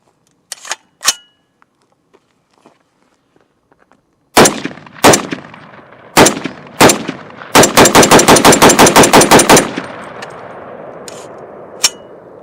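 A CMMG Mk47 rifle fires Winchester 123-grain full metal jacket rounds from a P-Mag at close range: a few sharp single shots, then a rapid string of about a dozen loud cracks, with distant shots before and after.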